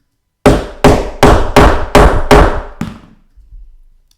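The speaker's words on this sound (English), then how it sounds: "we want to give it a good whack" Six sharp, loud hammer strikes land on an eyelet setting tool in quick, even succession, each ringing briefly before the next, followed by a faint clatter; no voices.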